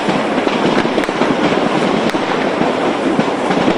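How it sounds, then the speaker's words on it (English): Gunfire and explosions roar during the military operation to end the Westgate shopping complex siege in Kenya: a dense, continuous crackle of rapid shots with sharper blasts punching through, loud and unbroken. "A huge explosion and an eruption of gunfire, outgoing and incoming."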